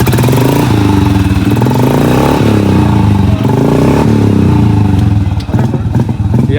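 A Royal Enfield Himalayan 450 motorcycle runs loud and close, its engine thrumming steadily with occasional revs and mechanical clatter, while other bikes and faint voices mix in the background.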